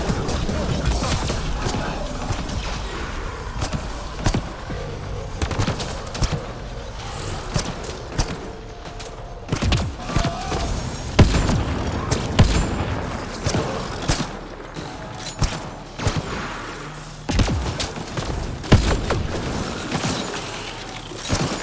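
Automated turret firing on incoming enemies during combat in Mass Effect Andromeda, a dense run of sharp shots, crashes and thuds with scattered impacts and mechanical clatter over roughly twenty seconds.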